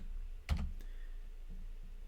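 Keys on a computer keyboard are struck in a quick, quiet burst of a few clicks, close and isolated in a hushed room.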